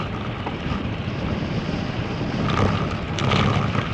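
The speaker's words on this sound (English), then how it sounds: "Wind is a brute." Wind roaring across a microphone while cycling on a road ride, a loud, continuous low buffeting rumble and rush that grows a little stronger toward the end, with no talk.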